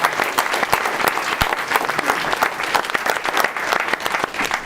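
A rally crowd in Milwaukee applauds volunteer event hosts with loud, dense clapping that stays steady and close for several seconds, no one speaking over it.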